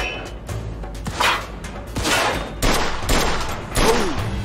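Gunfire in the Mafia 2 Definitive Edition game comes as repeated sharp bursts and crackling volleys, loud and close, with brief shouted voices around them.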